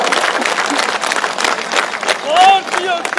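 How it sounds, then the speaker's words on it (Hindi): A crowd at a political rally claps, with a clattering burst of applause mixed with someone speaking loudly over a public address system. "हाथ उठाकर तालियां बजाकर उनका अभिनंदन किया जाना चाहिए"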